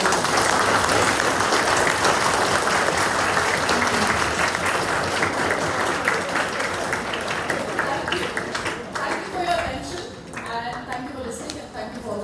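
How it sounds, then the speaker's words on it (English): Sustained audience applause at a science lecture, dense and loud across the whole stretch, gradually thinning toward the end with a few scattered claps and murmurs. "Please join me in a round of applause to show our appreciation."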